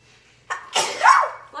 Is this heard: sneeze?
yes